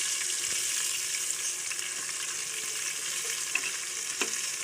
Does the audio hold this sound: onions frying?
yes